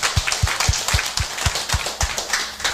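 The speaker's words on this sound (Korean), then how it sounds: "우리에게 말씀 주신 하나님께 영광의 박수 올려드리겠습니다" A church congregation claps in unison, a steady rhythmic beat of roughly four sharp claps per second, loud and close, with no talking.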